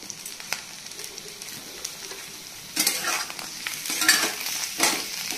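Chopped onion and capsicum sizzle and fry in a pan while being stirred, a steady close crackle with scraping stirs that grows louder and busier toward the end.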